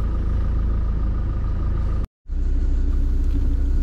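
A 4x4 drives down a steep green lane, its engine giving a steady, close rumble. A brief gap cuts the sound partway through.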